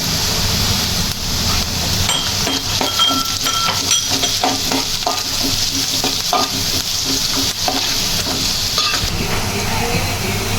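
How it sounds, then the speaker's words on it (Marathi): Garlic and onion stir-fry in a hot pan with a loud, dense sizzle. A utensil scrapes and stirs in quick, repeated strokes throughout. "कांदा शिजवून घेऊ मस्तपैकी आणि लसणाचे ना आपण छोटे छोटे पीस करून घेऊ आता आपण लसूण टाकून घेऊ"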